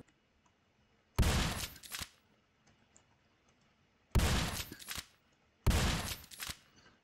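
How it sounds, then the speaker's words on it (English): A shotgun fires three times in the Wolf Tower video game, each loud blast cut short by a brief clattering tail, with quiet gaps of a second or more between shots. "Let's use the shotgun to start."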